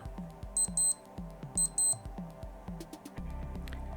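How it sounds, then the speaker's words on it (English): A Casio Classic A500W digital watch alarm chirps in short paired bursts of high beeps, repeating twice, with faint clicking and background noise in between. "and the alarm's going off"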